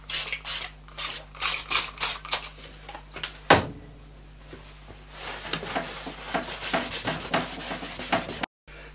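Clamps are tightened around a glued wooden finger-jointed box, giving a burst of sharp ratcheting clicks, then a loud clunk and a longer stretch of softer rubbing, grinding mechanical clicks.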